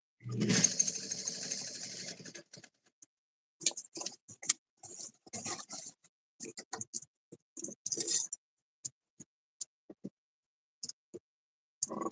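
A sewing machine stitches fabric in close-up with a sustained whirring run at the start, then stops and starts in short stitching bursts and brief pauses.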